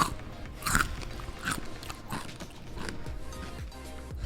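Crunchy chewing of a salted egg fish skin snack, several sharp bites and crackly crunches close to the mic with no talking.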